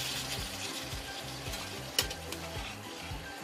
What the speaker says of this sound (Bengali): এবার আমি একটু অল্প অল্প করে জল দেব।